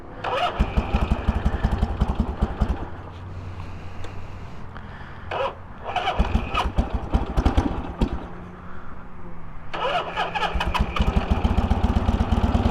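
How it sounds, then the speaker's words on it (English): A 1973 Harley Davidson Sportster fires up and idles unevenly with a loud, close, lumpy rumble that dips and surges several times while it warms up cold. "And you got your classic Harley sound."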